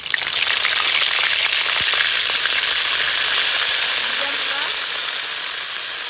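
Ginger paste, bay leaves, cumin seeds and cinnamon frying in hot oil for a village-style vegetable khichuri, giving a loud, steady, close hiss and sizzle that barely eases over several seconds.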